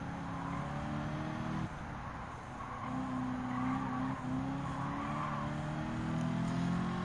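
A 1980 Maserati Merak SS slows on a race track in Gran Turismo 7, its engine note droning and dropping steadily with a faint tire squeal, loud and continuous with no talk.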